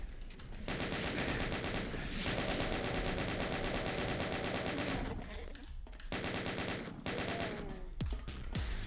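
Rapid machine-gun fire from the video game Doom II blazes in long, dense bursts, loud and close, broken by brief pauses and a few sharper single shots toward the end.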